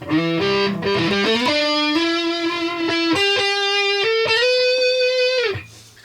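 Electric guitar through a Boss OD-200 pedal on its distortion type, a loud saturated tone playing a short phrase of picked notes and held chords, alone, ending in an abrupt cut to near silence.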